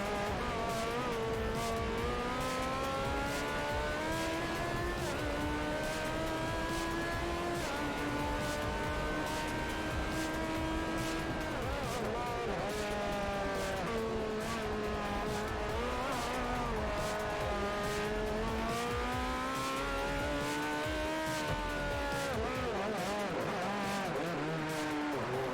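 Race car engine from Forza Motorsport 4 howls through a steady run of gear changes, its pitch rising and falling continuously, with faint tire squeal through a turn and no talking.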